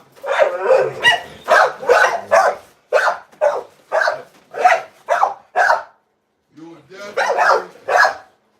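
Repeated barks from American Bully dogs, coming in a quick series of bursts with short gaps between them, loud and close, with a brief pause before a final cluster of barks.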